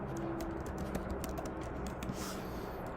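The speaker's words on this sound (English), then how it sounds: "So pardon my typing for a moment." Quiet, steady clicking of fingers typing on a computer keyboard, rapid irregular keystrokes over a low background hum.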